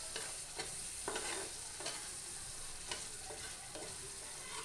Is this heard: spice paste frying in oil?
yes